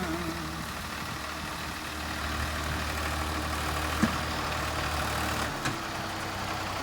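A tractor engine idles with a steady low rumble nearby during the wheat harvest, broken by a couple of brief clanks.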